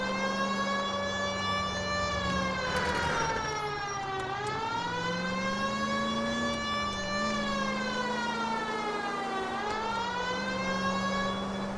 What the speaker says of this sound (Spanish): ver si con la sirena me hacen más caso